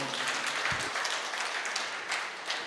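Applause from an audience at a pyramid spiritual society's meditation village project launch event, a steady broadband wash of many hands clapping throughout, moderately loud and continuous.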